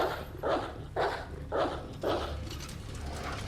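A zombie dog in the Resident Evil 2 Remake video game barks four times, evenly spaced and fairly loud, with no speech over it.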